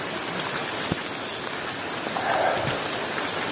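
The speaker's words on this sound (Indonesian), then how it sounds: "Nah ini udah mulai rintik-rintik hujan" Light rain patters steadily on surfaces at Bukit Barisan Selatan National Park in Sumatra, a dense, even hiss of drops with no talking.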